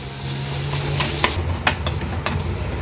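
Chopped tomato cooking in an uncovered pan, a steady sizzle with a few sharp scrapes and taps of a spoon stirring close by.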